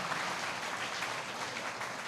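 A church congregation at a Sunday service claps together in a sustained, even round of applause, a soft, dense patter heard from a distance without speech.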